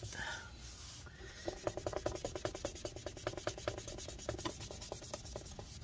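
A cloth damp with rubbing alcohol wipes the internal parts of a MacBook Pro A1398 in quick, steady back-and-forth strokes, close but faint.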